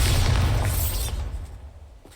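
A Bombarda spell explosion from Hogwarts Legacy opens as a loud, close blast, then rumbles and fades away over about two seconds. No voices are heard.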